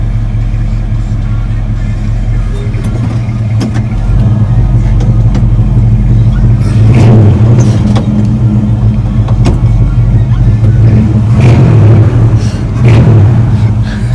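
A 1970 Chevy C-10 truck engine runs loud and close with a deep steady rumble, rising in a few revs partway through while voices talk over it.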